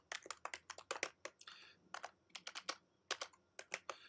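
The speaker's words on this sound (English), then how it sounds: "I'm clicking over there and I have to type date picker." Steady typing on a computer keyboard, a quick run of close, crisp keystrokes in uneven bursts with no talk.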